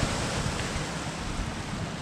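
Sea surf washes against the shore at Lilstock during a ray-fishing session, a close, steady roar of breaking water mixed with gusty wind buffeting the microphone.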